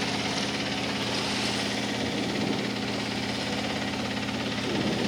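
A sailboat's inboard engine runs steadily at low speed while motoring toward port on a cruise, with a continuous droning hum and a faint mechanical knock. The sound stays even and moderately loud throughout, with no talk.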